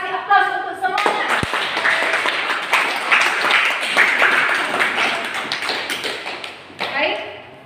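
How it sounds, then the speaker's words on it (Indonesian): A classroom of students in a physics lesson claps for the student groups that presented, with steady, lively applause lasting about six seconds before it fades out. "Kasih aplaus untuk semuanya."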